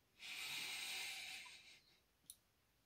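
A slow, steady breath drawn in through the nose during a calm breathing exercise, a soft airy hiss lasting about a second and a half, close and quiet, followed by a brief faint click.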